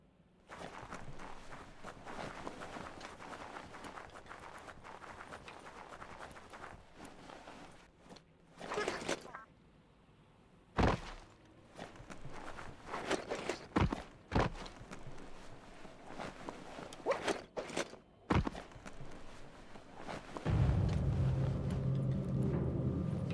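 Footsteps stomping in the video game Biomutant, a run of heavy thudding steps with short pauses, close up and without speech, ending under a louder rumbling background.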